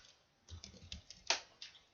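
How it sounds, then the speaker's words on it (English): Keys on a computer keyboard are typed in a quick, faint series of soft clicks at close range while entering a calendar time, with no talk. "In this case, I'm typing it."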